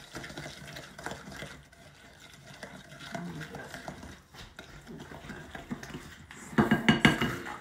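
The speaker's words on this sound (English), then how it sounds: "Okay, I'm just going to stir it." Caramel corn with butter and brown sugar stirred in a bowl: a spoon scrapes and clinks softly against the dish, growing busier and louder near the end.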